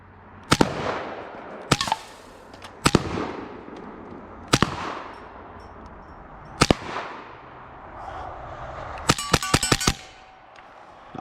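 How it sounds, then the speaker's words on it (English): An AEA HP SS Plus .25 caliber air rifle fires Predator poly pellets: sharp, loud cracks spaced a second or two apart, ending in a quick burst of several shots in a row. "Gonna be shooting some more of these Predator poly mags here"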